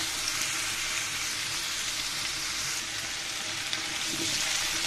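Pieces of pumpkin frying with panch phoron in an oil-filled pan give a dense, steady sizzle and hiss, close and unbroken, with no voices over it.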